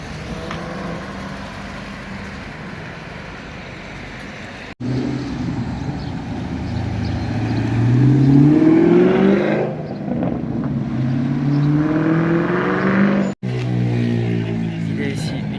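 Cars at a large outdoor car meet drive past and rev. Engine notes climb and fall in rising sweeps that grow louder toward the middle, over a steady background din.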